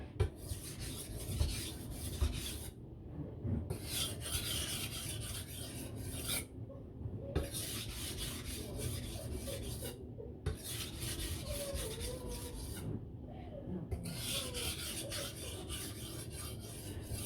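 Knife steel (MagnaCut) stroked with light pressure across a sharpening stone, a steady rasping scrape in repeated passes broken by brief pauses, close and fairly quiet with no speech.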